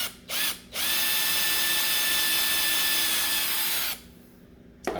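A handheld power drill with a drill bit, used while making a DIY aquarium air manifold, whines steadily for about three seconds, loud and close, after two short bursts, then stops.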